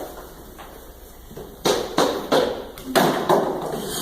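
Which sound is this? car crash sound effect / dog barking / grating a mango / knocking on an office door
knocking on an office door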